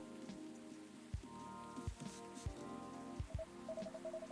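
Rain falls steadily in the video game Coffee Talk 2, a soft, constant patter under gentle music with a few low thuds, and no one speaks.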